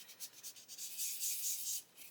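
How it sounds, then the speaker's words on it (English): A 1/12 scale Italeri Stratos plastic model kit disc brake is sanded by hand, a close, quiet, rhythmic rasping of short back-and-forth strokes, with a slightly longer, smoother rub in the middle. "check that I'm sanding it all up all nice and flush"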